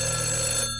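A telephone rings indoors with a steady electronic bell tone, one short burst that cuts off near the end, fairly clear with no talk over it.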